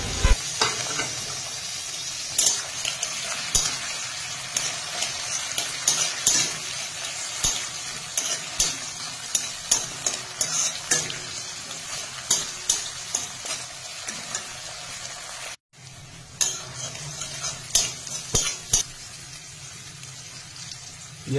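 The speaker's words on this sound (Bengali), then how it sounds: "পেঁয়াজ আমি ভালো করে ভেজে নিয়েছি" Chopped onions and tomato fry in a pan for chicken skin masala kosha, with a continuous sizzle and frequent rhythmic clacks of a spatula stirring against the pan. A brief dropout breaks the sound partway through.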